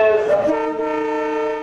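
A train horn sounds loudly at a crowded Eid-time railway station in Dhaka, one long sustained multi-tone blast that holds steady over a busy background.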